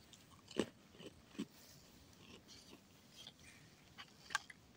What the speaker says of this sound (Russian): Сидишь и жуешь.